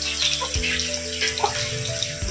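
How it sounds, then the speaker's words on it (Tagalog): Water runs from a kitchen tap in a steady splashing stream, close by, with clinks of dishes or utensils mixed in. "Unlimited tubig."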